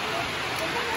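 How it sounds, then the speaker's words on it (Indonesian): Heavy rain falls steadily at a Balinese temple compound as a dense, continuous hiss of drops hitting surfaces. "hujan belum juga berhenti dan masih sangat deras"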